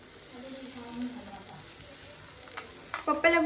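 Coriander leaves dropped into a hot pan sizzle steadily, with a soft frying hiss and a few clinks of a utensil near the end, faint voices in the background.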